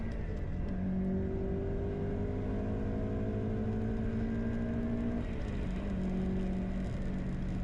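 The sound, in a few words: car transmission gear whine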